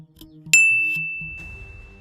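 A cellphone chat message notification gives a single bright ding that rings out and slowly fades, over faint low background hum.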